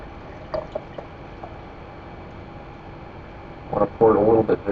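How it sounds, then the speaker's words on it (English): Old Speckled Hen ale being poured vigorously into a glass, giving a short burst of splashing, gurgling liquid near the end that follows a few faint clinks and handling sounds in an otherwise quiet room. "I want to pour it a little bit vigorously."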